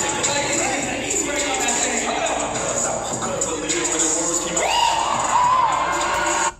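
A loud crowd cheers, whoops and shouts continuously for a dance move, with excited voices rising toward the end.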